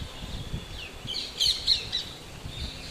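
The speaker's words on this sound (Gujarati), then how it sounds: "આ બાજુ પોપટ હતા, આ બાજુ પોપટ છે વરસાદના" Parrots squawk in short harsh bursts at a rainy temple courtyard, several overlapping calls rising over steady drizzle and low background rumble, moderately close.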